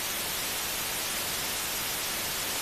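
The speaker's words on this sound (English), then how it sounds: "So that's some real like Ruby generated noise we got there." Random noise generated by a Ruby synthesizer: a steady, even broadband hiss like static, heard alone and unchanging throughout.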